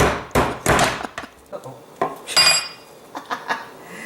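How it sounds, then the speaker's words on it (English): A meat mallet pounds pork loin thin on a hard kitchen surface: a series of sharp, close thuds and clacks in an irregular rhythm, some in quick pairs, with short pauses between blows. "I continued on pounding out all of my pork until everything was pounded out and nice and thin."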